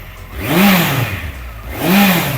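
2015 US-spec Honda CB1100 four-cylinder motorcycle revved twice from idle, each blip rising and falling smoothly, loud and close with no talk.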